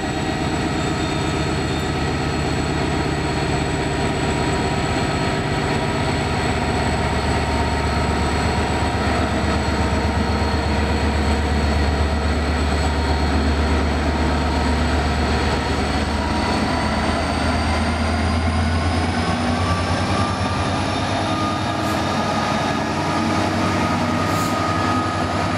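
Rail locomotives near Forbach and Völklingen, a loud, steady rumbling engine drone with a deep low hum and rising whine that fills the whole span without pause, no voices.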